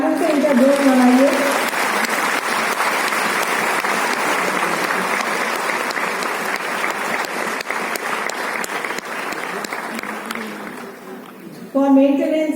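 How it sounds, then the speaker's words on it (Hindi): Sustained loud applause from a large audience at a foundation day award ceremony, a dense even roar of clapping lasting about ten seconds and tapering slightly, with a voice speaking briefly at the start and again at the end. "तो बहुत ही जोरदार तालियों से इनका जोश मनाइए"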